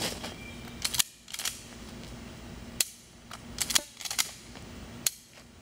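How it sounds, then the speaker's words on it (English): Pump-action shotgun cycled one-handed during a dry-fire drill: several sharp metallic clacks and slides arrive in small clusters, close and crisp, separated by brief quiet gaps, with no talking. "you should be able to run the shotgun with one hand, either hand"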